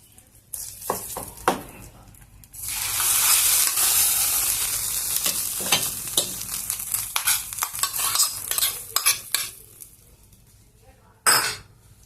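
A spoon stirs and scrapes around a pot of gongura lentil dal, with soft sizzling and a few metallic clinks, then a final sharp clatter near the end.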